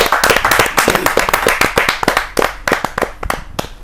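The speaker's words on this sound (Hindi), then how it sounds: "जोरदार ताली के साथ उनका स्वागत" An audience at a Hindi kavi sammelan claps loudly to welcome the poet Shakuntala Kajal Shakun. The claps are close, sharp and distinct, coming in quick uneven bursts throughout.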